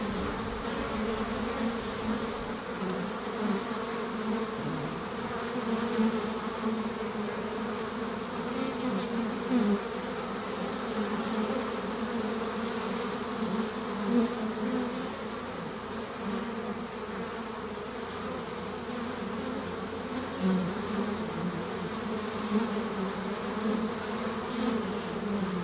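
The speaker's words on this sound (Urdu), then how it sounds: "آپ کو اپنے کانوں میں مکھیوں کی بن بناہٹ کی آواز آنے لگتی ہے" Insects like flies or bees make a steady, droning buzz that holds at an even, moderate level for nearly half a minute, with slight swells and no other sounds.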